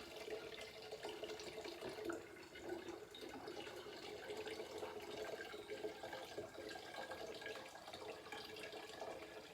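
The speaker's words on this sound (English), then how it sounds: "And then we're going to shake it up." A jug holding water and honey mead is shaken, giving a steady, continuous sloshing and swishing of liquid that stays close and fairly even throughout, with no talking.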